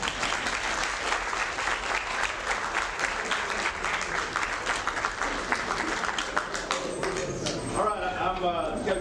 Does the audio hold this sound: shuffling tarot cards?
no